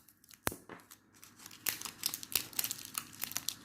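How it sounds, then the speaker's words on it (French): Adhesive tape is pulled off the roll and torn to close a package holding a diamond painting cupcake keychain kit: a sharp crinkly rip, then a run of close, crackling tape peels and snaps with no talking. "je vais refermer avec du scotch"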